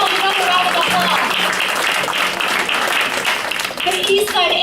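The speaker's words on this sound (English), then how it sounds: "Give yourselves another round of applause." A large crowd at an evening candidates forum applauds, with sustained clapping that stays loud, dips briefly near the end, and has a voice speaking over it.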